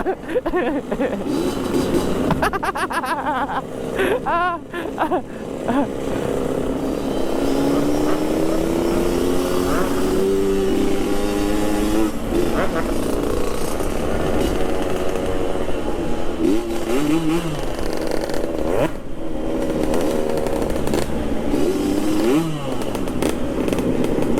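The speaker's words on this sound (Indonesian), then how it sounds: "Mas Danang, tidak apa-apa Ji, ini ku gas-gas motor tak." A Yamaha RX King motorcycle engine runs loud and steady at close range, revving up and down repeatedly with brief rises in pitch.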